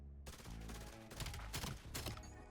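Shotgun fire in the video game Black Ops 7 sounds as dense, loud bursts of blasts and clatter from a busy firefight, with several heavy booms close together.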